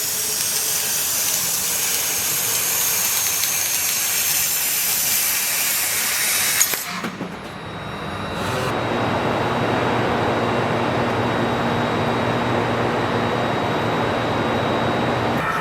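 A 20 kW fiber laser cutting machine slicing 40 mm carbon steel produces a loud, steady broadband hiss, briefly cutting out partway before resuming as a rougher, roaring spray-like rush.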